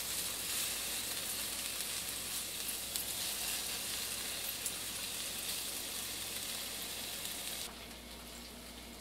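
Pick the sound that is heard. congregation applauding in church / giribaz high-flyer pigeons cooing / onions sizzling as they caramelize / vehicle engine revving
onions sizzling as they caramelize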